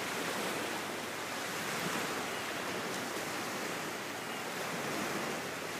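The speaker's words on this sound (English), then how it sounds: "this beautiful sound of the ocean" Ocean waves wash in a continuous, even roar of surf that holds steady at a moderate level with no voices over it.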